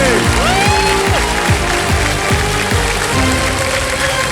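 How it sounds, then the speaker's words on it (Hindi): Studio audience applause on the Indian TV quiz show Kaun Banega Crorepati, a dense steady wash of clapping under music and a host's voice. "तालियां बजती रहें इनके लिए"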